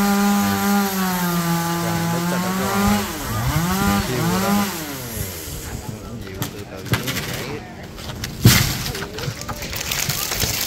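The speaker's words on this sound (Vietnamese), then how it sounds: "Chú mình thủ tư thế đàng hoàng để cưa nhánh to nè." A chainsaw cuts through a large branch of a giant dầu tree near a market in Tri Tôn, An Giang, its loud engine whining and bogging steadily as the chain works through the wood.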